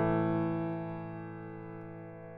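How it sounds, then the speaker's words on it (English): A sustained chord on the 8Dio 1969 Legacy Grand Piano, processed with a pulsing tremolo effect, rings alone and fades slowly, its rapid rhythmic throb running under the decaying tone. "it's creating this cool pulsing tremolo sound"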